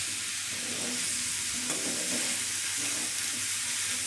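Bottle gourd cooks with spices in a pan for a Bengali fish dish, a steady close sizzle with soft scraping and stirring sounds, no voices.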